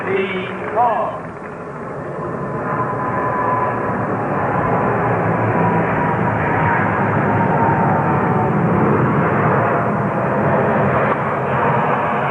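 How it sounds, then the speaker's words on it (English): Airplanes flying low over a tennis stadium near LaGuardia airport during the 1972 US Open final, a loud sustained engine roar filling the whole stretch beneath crowd murmur and commentary. "Getting a lot of aeronautical noise, planes flying over."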